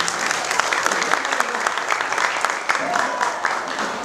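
Audience applause at a Balinese Rangda dance and solo kendang drumming competition, a sustained patter of many hands clapping together from a crowd.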